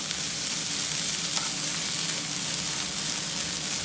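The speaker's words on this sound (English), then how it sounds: "There's the onion. Gonna give that a little stir first." Onion frying in a pan while being stirred for Cajun chicken pasta, a loud, close, continuous sizzle and crackle with light scraping from the stirring.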